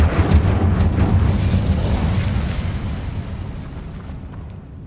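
A fiery spell cast during combat in the Hogwarts Legacy video game, heard as a loud booming burst with a dense low rumble that slowly fades over several seconds.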